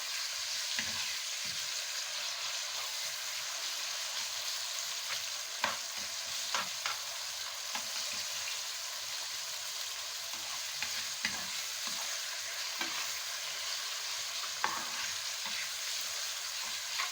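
Alexandrian-style liver frying in a pan, a constant bright sizzle broken by scattered scraping knocks as it is stirred, close and steady throughout.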